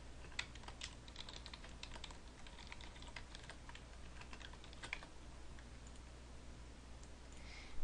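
Rapid, irregular clicking of keys on a computer keyboard, typed steadily and quietly throughout with no talking.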